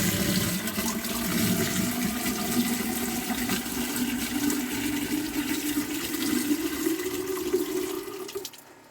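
A sump pump runs steadily as water drains from a flooded bunker bomb shelter, giving a continuous rushing, gurgling flow at fairly close range that cuts off abruptly near the end.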